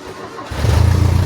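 A Toyota 4Runner engine with the choke on, cranking and then catching into a loud, rough, low idle for a brief moment.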